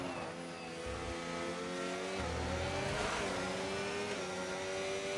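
A race car in a racing game bumps over curbs, its engine droning steadily at high revs with a harsh rough patch partway through, loud and close with no talk.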